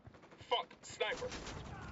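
Sniper gunfire in Ghost Recon Wildlands, two sharp separated shots about half a second apart, each with a brief crackling tail, fairly quiet and followed by low-level game ambience.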